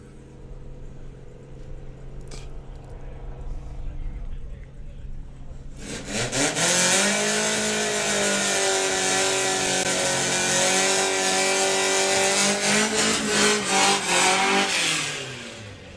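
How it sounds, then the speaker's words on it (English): A Volkswagen Beetle drag car at a drag strip rumbles at idle, then its engine swells into a loud, steady drone that holds for about ten seconds before fading as it crawls up the track. "This is the Blue Shift Beetle, looking for a 1650, but just crawling up the track at the moment."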